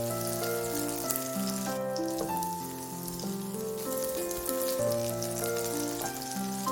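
Oyster mushroom pancake batter, mixed with frying mix, tuna fish sauce, salt and vegetables, frying in cooking oil, giving a steady close crackling sizzle under loud background music throughout.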